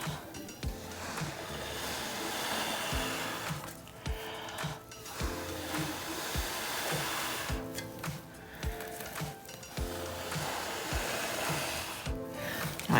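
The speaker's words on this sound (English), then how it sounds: "when I blow, I'm blowing out the colors as well" Breath blown across wet acrylic pour paint on a coaster or canvas, a soft continuous airy hiss in repeated gusts with brief pauses, close and fairly quiet.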